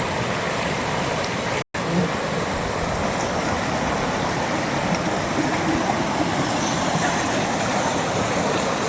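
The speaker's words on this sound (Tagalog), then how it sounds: "Agos ng tubig." Floodwater after heavy rain rushes loudly as a steady, dense roar that fills the whole stretch, broken only by a brief dropout early on.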